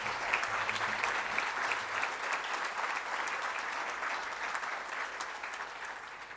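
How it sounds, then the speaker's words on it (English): A large audience at an education awards ceremony claps steadily for the provincial Premier, a broad continuous patter of many hands that stays even from start to finish, with a faint murmur underneath early on. "Can we please give the Premier a big round of applause?"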